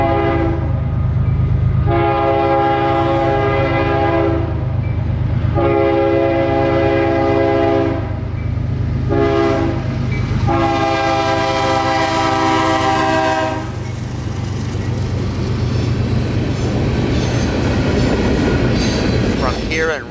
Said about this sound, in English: the old bells and gates to lower and signified that the Tropicana juice train was about to head over the just as old Palmetto Subdivision